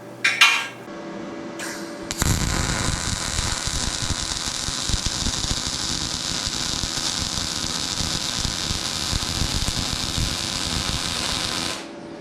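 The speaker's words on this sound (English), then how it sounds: "let's try welding some 1/4 of an inch mild steel" MIG welder joining two pieces of quarter-inch mild steel angle iron, a continuous loud crackling buzz lasting about ten seconds after a few short starts, then cutting off.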